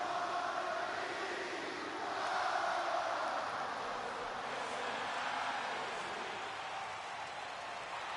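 A wrestling arena crowd in the WWE 2K26 video game sings and roars as one steady, dense wash of sound that swells slightly midway and carries on without a break, with no one talking over it.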